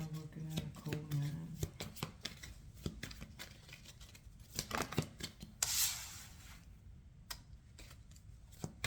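Tarot cards being shuffled by hand in a run of quick, close riffling and rubbing taps, with a brighter burst of riffling toward the end and no voice over it.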